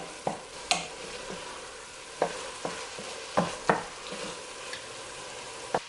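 Onions and cold ground meat sizzle in a soup pot, a steady frying hiss broken by several sharp scraping knocks of a spoon stirring against the pot, no voices.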